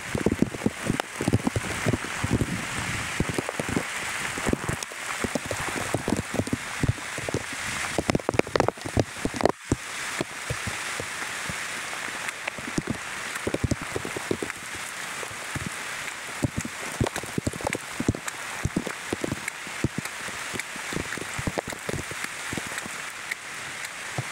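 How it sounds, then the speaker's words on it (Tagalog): Heavy rain pours down steadily, a dense, loud hiss of drops pattering on surfaces with bursts of heavier spatter throughout, no voices. "Malakas ang ulan guys."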